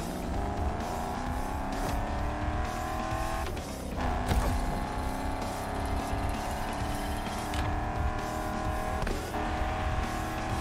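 A Shelby GT500 in The Crew Motorfest roars steadily around a lap, engine droning loud and close with rising and falling pitch, occasional gear shifts and brief tire squeal, no voices.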